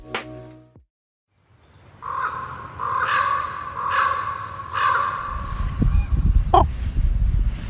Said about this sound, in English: Every time I hear the croak of a raven, it stops me in my tracks.